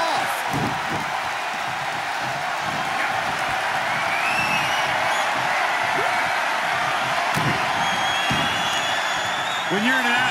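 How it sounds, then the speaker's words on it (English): A loud, dense crowd roar fills a wrestling arena in WWE 2K23 during a Kane, Lesnar and Cena match, holding steady throughout with scattered cheers and whoops on top. "when you can't hear yourself think because the crowd is so loud"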